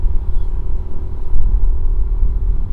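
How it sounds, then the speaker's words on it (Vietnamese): A steady low motorcycle engine rumble with road and traffic noise while riding, muffled, continuous and fairly loud. "tiếng xe cộ nè, tiếng động cơ nè, tiếng máy xe nè mình chạy nè"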